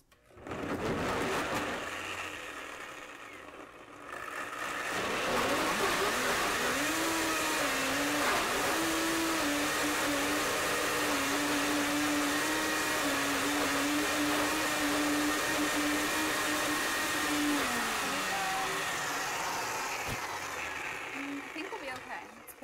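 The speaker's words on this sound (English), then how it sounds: "This needs to be, yeah, it's almost blended." Countertop blender churning frozen acai bowl ingredients, a loud steady motor drone running for most of the stretch after a brief start, with a pitch that shifts slightly as the thick mixture moves; voices talk over it.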